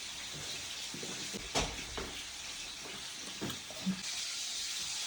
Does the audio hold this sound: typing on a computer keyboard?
no